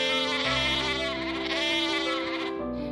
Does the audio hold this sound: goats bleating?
yes